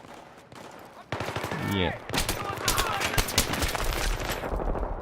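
Gunfire in the video game Battlefield 3, rapid bursts of automatic shots in dense, crackling volleys that continue almost without pause, with a brief spoken word from a player in the middle.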